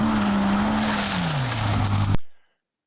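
Straight-piped six-cylinder BMW 325es engine roaring loud and close, a steady droning exhaust note that dips in pitch as revs fall, then cuts off abruptly into silence.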